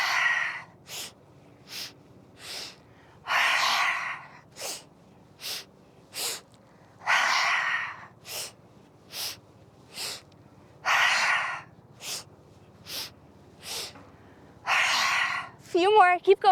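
Deep rhythmic breaths in and out during a yoga flow class, each long airy exhale alternating with short inhales, close and steady, with no talking.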